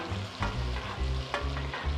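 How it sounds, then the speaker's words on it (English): Steak searing in a pan while being basted with butter, a loud steady sizzle and crackle with rhythmic spoon strokes repeating about every half second, close up and alone. "And what I'm doing here is basting."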